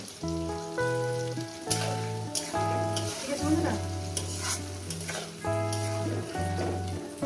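Spices and tomato sauté in hot oil for a katla fish curry, a soft sizzle and stirring sitting beneath loud, steady background music.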